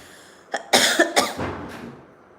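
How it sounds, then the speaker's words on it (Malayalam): A few harsh, close coughs in quick succession, loud and raspy, with a brief throat-clearing tail fading out. "എനിക്ക് സന്ധ്യ ആകുമ്പോൾ ചുമയാണ് ഗൈസ്"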